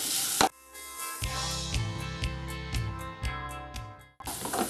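Onion and tomato frying in coconut oil in a pan, stirred with repeated scraping strokes over a steady sizzle; no talking.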